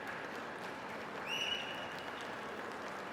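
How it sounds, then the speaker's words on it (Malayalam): Crowd applause at a pre-launch event for the Malayalam film ARM: steady, fairly faint clapping from a large audience that swells briefly midway, with a short high whistle cutting through. "അതിനും ഒരു വലിയ കയ്യടി നിങ്ങൾ പ്ലീസ്."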